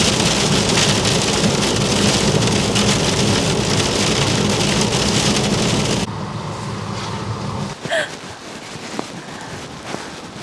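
Heavy rain in Scotland pours steadily onto a surface, loud and close for about six seconds, then softens to a lighter patter with a few isolated drips and knocks.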